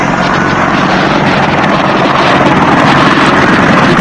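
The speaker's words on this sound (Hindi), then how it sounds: "आप रनवे पर देखिए कैसे अपाचे हेलीकॉप्टर उड़ाकर भीड़ को तितर बितर किया जा रहा है।" Apache helicopter flying over an airport runway, a loud continuous rotor and engine roar filling the scene with steady thumping wash and broadband noise, no clear speech.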